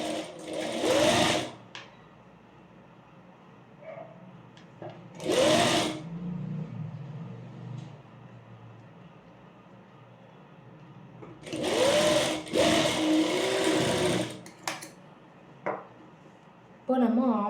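A sewing machine stitches a blouse in short bursts, four runs of a few seconds each, separated by quieter pauses. Someone speaks softly between the runs.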